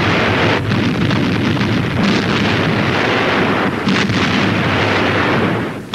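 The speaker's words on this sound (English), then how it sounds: "The heavy guns of the fleet back them up from its moorings." Heavy naval guns of a fleet fire from its moorings during the defence of Tallinn, a loud, continuous roar of distant heavy gunfire and explosions with a few stronger booms rolling through a wind-blown rumble.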